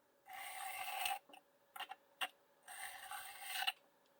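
A fixed-blade three-blade VPA broadhead is drawn across a sharpener in rasping strokes: two long swipes framing a few short scrapes, close and quiet in an otherwise silent room.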